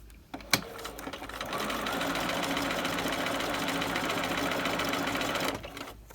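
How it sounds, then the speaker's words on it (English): A sewing machine runs steadily while stitching piping onto fabric at a standard 2.5 stitch length, giving a fast continuous mechanical whir close by that starts after a click and stops abruptly near the end. "And we put the fabric in the machine"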